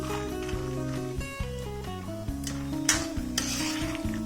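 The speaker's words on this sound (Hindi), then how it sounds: "बादाम को भी हम फ्राई कर लेते हैं। ज़्यादा समय नहीं लगता है, बहुत जल्दी ही ये बादाम भी हमारे फ्राई हो जाते हैं अच्छे से।" Almonds fry in a pan for sweet laddoos, a faint hiss with occasional scraping clinks largely buried under steady background music.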